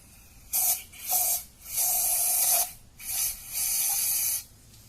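Five bursts of brake cleaner aerosol spray hissing close by, short to medium length with brief pauses between them, sprayed into a Ford Ranger's 2.3L engine.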